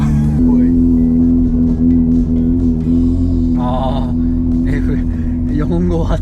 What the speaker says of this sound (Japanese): 458の音だこれ。